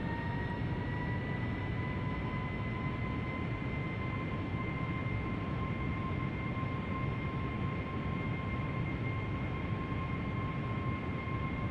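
A Boeing 757-300 on final approach with full flaps in Flight Simulator X gives a steady, even jet engine drone with faint high whines, holding level throughout with no talk.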